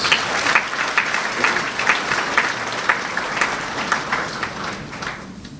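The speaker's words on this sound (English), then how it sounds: "Let's give ourselves a round of applause." Steady applause from a large gala crowd, dense and sustained clapping that carries on evenly throughout before tapering slightly at the end.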